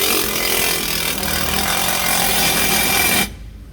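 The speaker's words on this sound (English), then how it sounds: "I'm going to go ahead and start by getting this close to torque" Exhaust clamp bolts on a MagnaFlow Overland Series system are run down close to torque with a power tool, giving a loud continuous grinding whir for about three seconds that stops sharply.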